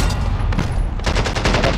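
Lapa SMG in a Rebirth Island battle royale match, loud rapid automatic fire in dense bursts, a short sputter early then a sustained rattling stream in the second half.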